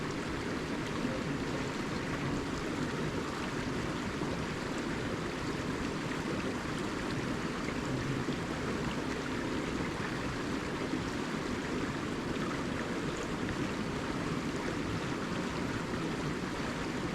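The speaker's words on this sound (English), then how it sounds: "Whole lot of water dumping out of that lake." Creek water pours out of a lake in the Oklahoma woods, a steady, full rushing roar with no pauses, fairly close and unbroken by voices.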